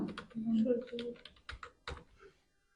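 Someone types on a computer keyboard while working in Photoshop, a short run of light clicking keystrokes heard close under a person speaking in Bengali.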